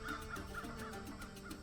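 Cartoon crow cawing in a steady series of harsh calls, repeated roughly every quarter second, moderately loud with a busy musical or noisy backdrop beneath.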